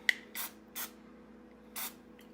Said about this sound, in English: I have some cooking spray, and I'm just going to